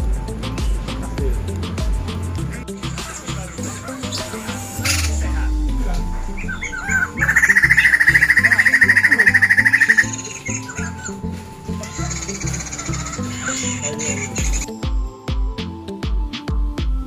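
Birds chirp and tweet inside an aviary at The Joglo Garden, with a loud burst of calls in the middle, heard amid background music and voices.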